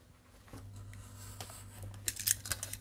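Scissors cut through cardboard for a scrapbook album page, a few faint snips early on, then a quick cluster of sharper, closer cuts toward the end.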